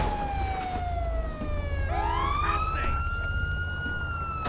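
Police car siren from a Ford Crown Victoria Police Interceptor in the GTA V LSPDFR mod, a loud wailing tone that sweeps downward, then rises again as a second siren layer joins, steady and close over continuous engine rumble.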